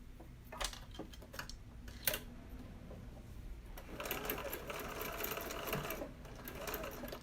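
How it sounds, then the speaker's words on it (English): A sewing machine stitches two fabric pieces placed right sides together, starting with a few short bursts of needle clatter before settling into a steady, continuous run in the second half, close and moderately loud with no talk. "I'm going to sew these together"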